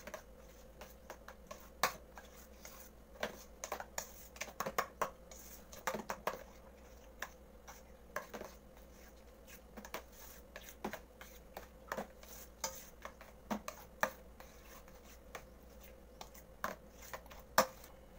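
Light taps and scrapes of a utensil against a mixing bowl as condensed milk and all-purpose cream are stirred together, quiet and irregular with no talking.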